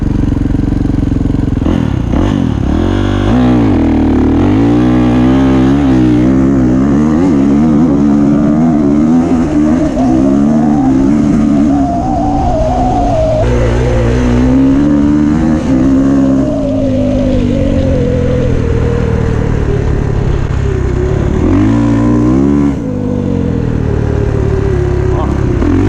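2019 Kawasaki KX450 dirt bike with an FMF Megabomb exhaust, revving loudly up and down at close range, the engine pitch rising and falling in sustained sweeps over its steady rumble.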